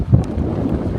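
Strong wind buffeting the microphone out on the water during a 29er sailing race, a steady low roar with gusty rumbling throughout.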